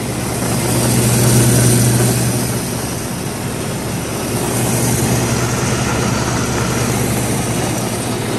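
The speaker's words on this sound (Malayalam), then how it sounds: "ഇവിടെ ധാന്യങ്ങൾ പൊടിക്കാനും ട്രാക്ടർ ഉപയോഗിക്കുന്നുണ്ട്" A tractor engine drives a grain-grinding mill in a village, its steady loud mechanical drone running continuously with a low hum and rough broadband rumble, swelling slightly at moments, with no voices.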